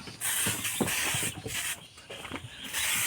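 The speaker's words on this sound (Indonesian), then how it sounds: "Iki semprote ngene iki" Insecticide sprayed from a can around a goat pen, bursts of bright, close hissing that pulse on and off several times over a few seconds.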